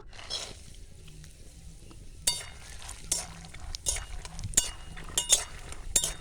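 Peanuts stirred in hot oil in a wok in a village kitchen, a soft steady sizzle broken by several sharp scraping and clinking strokes of a utensil against the pan, close up and without talk.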